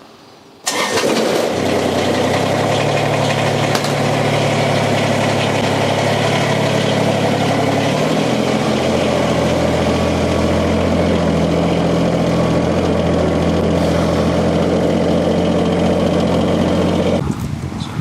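A Kubota BX compact tractor's engine starts and runs steadily at close range for about seventeen seconds, a loud continuous drone with a shift in pitch partway through, then cuts off at the end.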